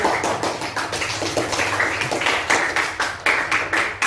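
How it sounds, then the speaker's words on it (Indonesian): Classroom of students clapping at the end of a presentation, a steady patter of many hands for about four seconds with no talking. "beri tepuk tangan kepada aku"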